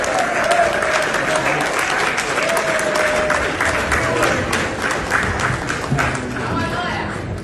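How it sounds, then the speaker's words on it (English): Loud, steady applause from a large crowd, continuous throughout with dense clapping and no pauses. "applause"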